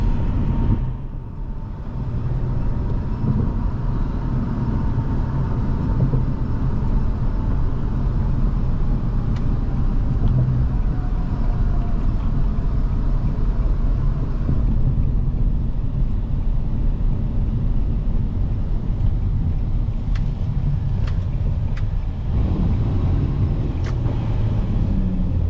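A 2004 Infiniti G35 Coupe with a manual gearbox hums along under way, a continuous low engine drone with road noise, a brief dip near the start and a shift in tone late on.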